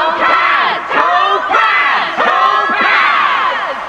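Crowd of characters cheering and whooping in the video game Honkai: Star Rail, loud and continuous with excited shouts rising and falling in waves, no separate talk over it.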